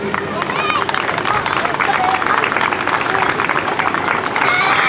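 Sustained, dense applause from a festival audience at the inaugural ceremony of the Festival del Canto y la Amistad in Capilla de Sitón, steady and loud throughout with a hint of crowd murmur beneath.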